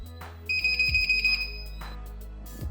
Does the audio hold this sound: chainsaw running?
no